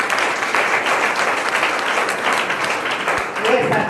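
An audience claps loudly at a closing sales meeting, a sustained wash of applause running throughout with no break.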